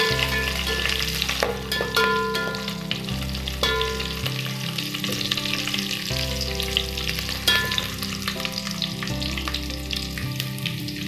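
Curry leaves and garlic crackle and sizzle in hot oil for a potato curry, a busy continuous frying hiss with sharp pops and a low background hum, no talking.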